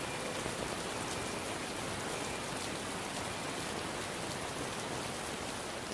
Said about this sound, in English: he came up with a soundtrack that is a combination of the sound of rain